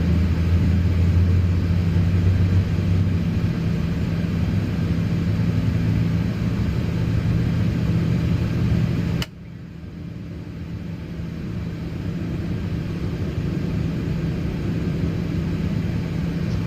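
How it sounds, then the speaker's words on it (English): Jet engines of a PMDG 737-800 in a flight simulator game give a loud, steady broadband rumble that cuts off abruptly midway, then builds back gradually to a softer continuous roar. "here's the engine sound, ladies and gentlemen. That's the NG, how it works"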